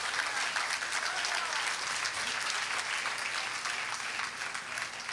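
A church congregation claps during a Spanish-language worship service, a dense, even wash of applause sustained for about five seconds at moderate distance.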